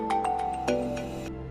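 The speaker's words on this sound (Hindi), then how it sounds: "अबे पुलिस स्टेशन से फोन आ रहे हैं।" A phone rings in a drama scene, a short series of repeated electronic tones in quick rhythmic bursts, close and fairly loud with no talking over it.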